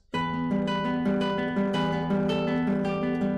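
Romance de Amor plucked on guitar in an even, steady pattern, each note at the same volume, clear and close with no talking.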